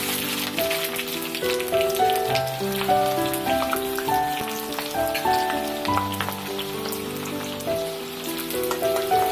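Onion goes into hot mustard oil with yellow mustard seeds, giving a steady, hissing sizzle under prominent background music.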